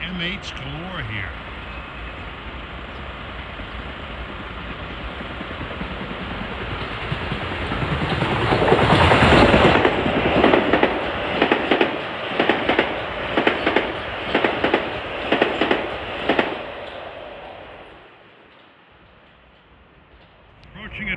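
A Metro-North commuter train, number 943 bound for Wassaic, draws near on the Harlem Line on a holiday-lights evening, its rumble building steadily to a loud pass with rhythmic wheel clatter over rail joints before fading away.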